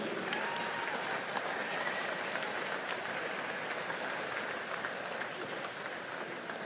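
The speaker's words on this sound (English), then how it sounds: "Round of applause for our Pan-Pacific Championship team." Crowd applause in an arena at the New Zealand Swimming Championships finals, honouring the Pan-Pacific Championship team; sustained, steady clapping from a large, somewhat distant audience with faint crowd murmur and no speech.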